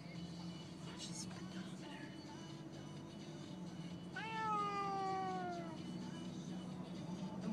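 A cat meows once loudly and nearby with a long falling cry, heard inside a stopped vehicle over a steady engine and road hum.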